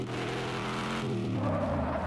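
An old-school muscle car in the video game Denizen roars loudly with a continuous engine drone and skidding tires as it loses grip, sustained and close for about two seconds.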